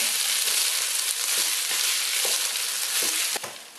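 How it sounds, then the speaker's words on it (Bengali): Dense, continuous sizzling of rice frying in a pan over medium heat for shahi morog polao, with occasional scraping stirs and a sharp clink near the end. "দিয়ে চালটাকে পাঁচ ছয় মিনিট আমি ভেজে নিব"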